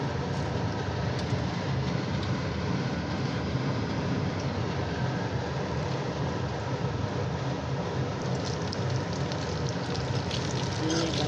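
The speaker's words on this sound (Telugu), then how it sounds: "వీటిని కూడా ఇప్పుడు ఆయిల్లో వేసుకుని ఫ్రై చేసుకోవాలన్నమాట" Idli pieces fry in hot oil with cumin seeds, giving a steady, dense sizzle that holds at an even level the whole time, close up and without pause.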